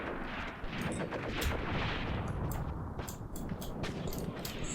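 Machine gun fire in the war video game Graviteam Tactics crackles in a dense, steady stream of distant shots and sharper cracks over a rumbling battlefield background.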